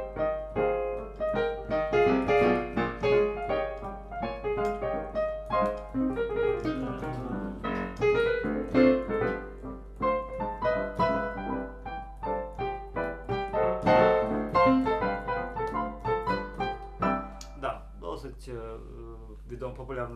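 Jazz piano plays a theme, a continuous melodic passage with chords and a lilting rhythm, close and clear, steady for about twenty seconds with no talking over it.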